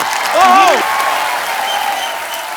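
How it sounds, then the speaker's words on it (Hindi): A studio audience on a TV comedy talk show applauds to welcome a guest, a brief wash of clapping while a sung or musical phrase rises and falls over it. "आप सबकी जोरदार तालियों के बीच बुलाना चाहूंगा dancing queen, the one and only evergreen Helen ji."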